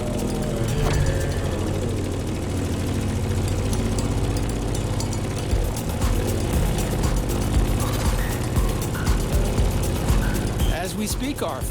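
A Grumman F8F Bearcat propeller plane from The Crew Motorfest drones with a loud, steady engine roar that holds throughout, rising in rough surges toward the end.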